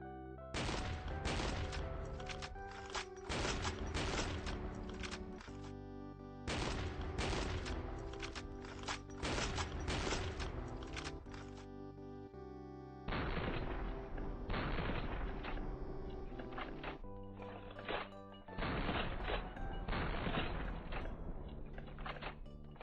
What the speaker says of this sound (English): Essentially, reloading cancels the small recoil animation of the shotgun, allowing you to instantly pull out another weapon.